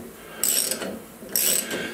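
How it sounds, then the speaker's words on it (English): A spark plug thread cleaner grinds and rasps in two short bursts as it is worked into the threads of a cylinder head, a close metallic scraping with a brief pause between strokes. "what I usually do is I got a spark plug thread cleaner, and I'll go in there and clean all the threads"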